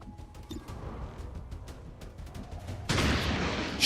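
Weapon fire in a sci-fi shooter video game: scattered sharp shots early on, then a loud, dense burst of sustained gunfire in the final second, with no talking over it.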